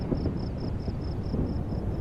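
Thunderstorm rolling over the Badlands, a steady broad rumble of wind and storm noise filling the air throughout, with a faint regular high ticking pulsing above it.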